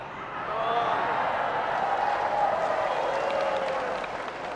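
Applause from a crowd rises and holds steadily for a few seconds, somewhat distant, with a voice faintly audible through the clapping.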